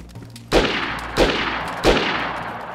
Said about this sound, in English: No, I'm shooting at him.